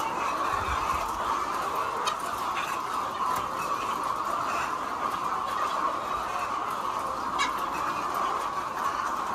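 Dense flock of chickens at a poultry egg farm, clucking and murmuring continuously at a steady level with occasional louder calls standing out, filling the space nearby.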